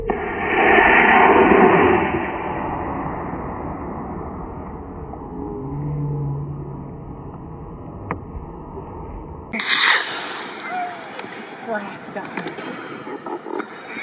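Model rocket launching at ScotsFest, an outdoor rocket event: a sudden sharp whooshing burst of motor noise cuts in after a long stretch of crowd chatter and wind, followed by fading hiss and scattered voices.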